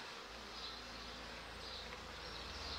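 Dense, steady buzzing of many honeybees at an open beehive during an inspection, a close, continuous drone filling the whole moment with no voices.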